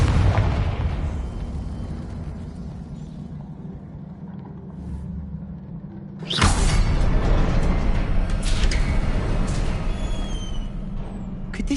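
A Confringo fire spell cast in Hogwarts Legacy on PS5, a sudden loud explosive burst about midway that swells into a sustained roaring rumble after a quieter ambient stretch.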